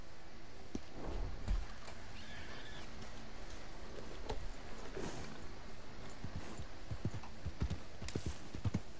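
A mare's hooves clip-clop steadily in Red Dead Redemption 2 as the horse walks through a town, a light rhythmic stepping with faint background ambience.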